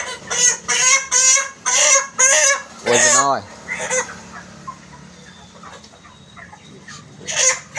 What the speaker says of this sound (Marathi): गावरान कोंबडे एक